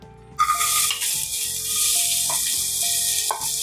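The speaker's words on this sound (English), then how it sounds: "Now once my oil has heated, I'll add in some chopped onions." Chopped onions drop into hot oil in a pressure cooker and burst into a loud, steady sizzle that holds for several seconds, with soft faint clinks underneath and no talking.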